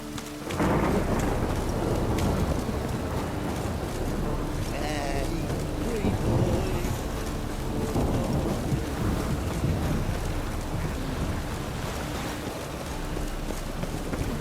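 Steady rain with low rumbling thunder in The Witcher 3 video game, a constant dense wash of downpour throughout, fairly loud and unbroken.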